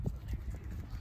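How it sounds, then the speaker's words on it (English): Horses cantering in a riding lesson arena, hooves clip-clopping in a quick, steady rhythm close by, with faint background noise. "Canter your horses."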